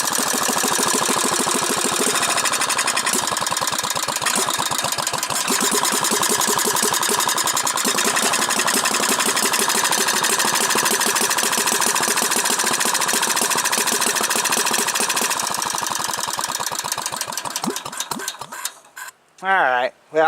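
A Manco go-kart engine runs loud and steady after a cold start, a fast, even putter that holds for about seventeen seconds before it sputters, cuts out and leaves a few scattered knocks.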